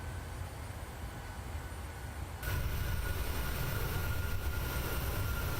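A PMDG 737-700 taking off in Microsoft Flight Simulator at night: a steady broadband engine roar that steps up sharply in loudness partway through as thrust builds, then holds constant without talk.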